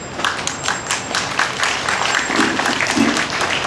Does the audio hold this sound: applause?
yes